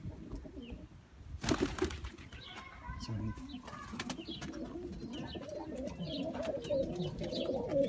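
Pigeons coo close by in a coop amid a busy backdrop of birds, wing flutters and rustling, with a brief loud flapping burst early on.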